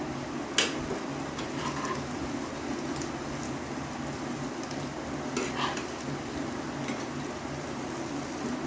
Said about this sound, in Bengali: আঁচটা জোর দিলে হবে না গ্যাসের আঁচটাকে একটু কমিয়ে দিয়ে করলে খুব ভালো ভাজা হবে